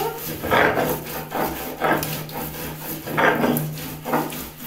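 Sesame seeds are ground coarsely on a grinding stone, with a rhythmic, close scraping rasp that repeats in regular strokes about every second.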